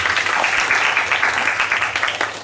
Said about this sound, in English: Let's clap for the children.